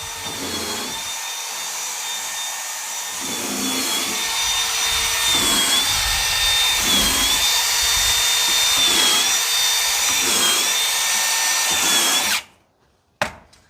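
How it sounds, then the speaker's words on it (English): A power drill with a countersink bit bores through wood in a stair-making shop, a steady high whine broken by repeated pulses of the bit biting, then stopping abruptly near the end. "what I was doing there is drilling through"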